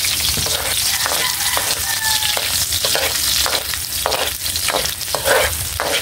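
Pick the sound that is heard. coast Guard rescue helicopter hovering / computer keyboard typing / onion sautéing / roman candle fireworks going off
onion sautéing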